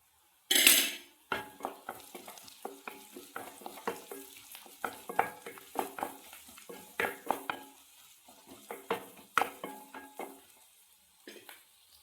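Dried red chillies sizzle in hot oil as a metal spoon stirs and clinks against the pan in uneven, close taps, with a soft frying hiss between strokes, for a rava breakfast dish.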